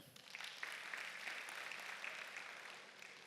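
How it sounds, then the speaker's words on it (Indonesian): Congregation applause at a Sunday church service, a faint, distant patter of many hands clapping that builds quickly and holds steady. "berikan tepuk tangan ya"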